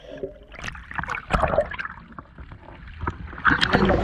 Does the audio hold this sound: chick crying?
no